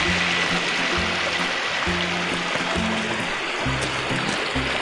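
Steady rushing of stream water, broadband and continuous, with some low rumbling beneath; no voices.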